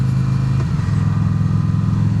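Motorcycle exhaust revving hard and loud, close by, a deep rumbling drone that dips briefly and then climbs back to a sustained growl, with no voices.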